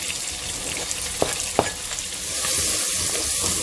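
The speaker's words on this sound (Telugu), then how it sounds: "చిన్న చాప్ చేసి ఆనియన్ యాడ్ చేసుకోండి." Chopped onions frying in a pan, a dense continuous sizzle close by with a couple of sharp stirring clicks partway through.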